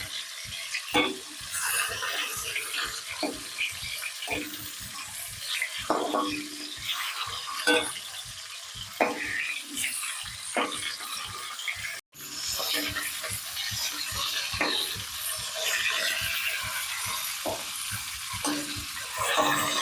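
Fish frying in smoking-hot oil in a kadai (wok), a steady close sizzle and spatter broken by repeated scraping and stirring sounds, with a brief cut partway through.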